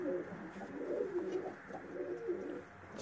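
Racing pigeons cooing softly nearby in a loft, low throaty rolling calls repeating in a steady, gentle rhythm.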